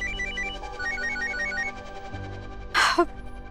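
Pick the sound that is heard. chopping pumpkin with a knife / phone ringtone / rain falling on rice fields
phone ringtone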